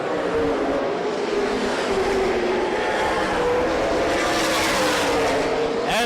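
Stock cars roar around Winchester Speedway during a CRA Super Series 100 race, one car's engine starting to blow up, a loud continuous engine drone with rising and falling pitch and a sharp surge at the end.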